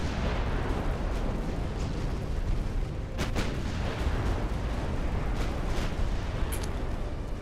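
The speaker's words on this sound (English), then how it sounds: "Let's go put the secondaries at that light cruiser, because we should be able to tear him up with armor-piercing 2-inch guns." Secondary guns firing 2-inch armor-piercing shells at a light cruiser in the naval battle game Ultimate Admiral Dreadnoughts, heard as a dense, continuous rumble of gunfire with a few sharper bursts standing out.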